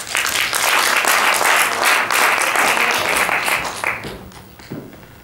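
An audience at an awards evening applauds to welcome Tom Hoebe onto the stage, a loud, full burst of many clapping hands that holds steady, then thins out and fades to scattered claps.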